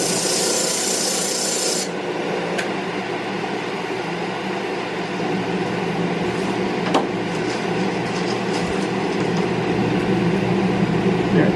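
A wooden piece pressed into an 80-grit drum sander produces a continuous, loud abrasive rasp over a steady machine hum, with a few faint knocks and no speech.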